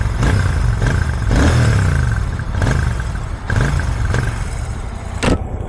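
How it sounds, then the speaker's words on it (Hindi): Royal Enfield Shotgun 650 motorcycle exhaust, revved repeatedly from idle: about six throttle blips that rise and fall over a low, steady engine burble, heard close and loud. "एक बार आप इसकी एग्जॉस्ट की बात सुन लो"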